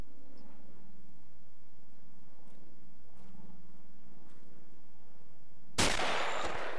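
A single loud, sharp gunshot in a World War II game at Brecourt Manor cracks out close by after a quiet stretch of faint ambient sound, with its echo trailing away.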